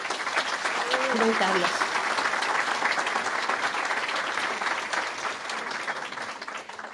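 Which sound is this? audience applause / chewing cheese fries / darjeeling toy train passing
audience applause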